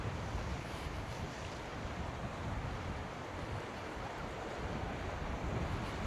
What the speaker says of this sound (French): il y a des vagues qui passent un peu par-dessus